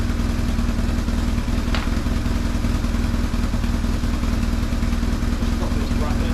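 A homebuilt adventure motorcycle's engine running after three years in storage, a loud, close, steady idle with a continuous metallic rattle throughout.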